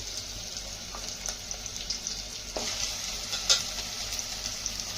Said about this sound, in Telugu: ఉల్లిపాయలు బాగా ఎగుతాయి కదా